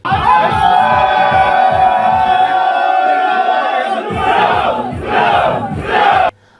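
Loud festive shouting and rhythmic cheering from a crowd at an Onam celebration at Pala police station in Kerala, sustained whoops and chants with a brief lull before renewed bursts of shouting.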